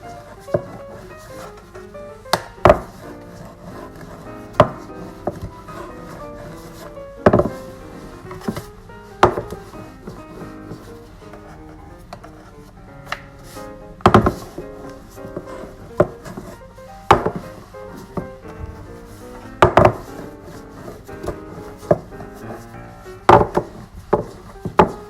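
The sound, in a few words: rolling out bao bun dough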